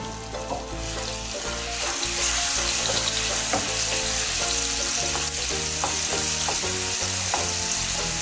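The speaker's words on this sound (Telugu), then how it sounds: "ఆనియన్ పేస్ట్ కూడా వేసుకొని వేపుకోవాలి" Onion paste and ginger-garlic paste frying in oil in a pan for chicken gizzard fry, a loud steady sizzle with scraping stir strokes running continuously throughout.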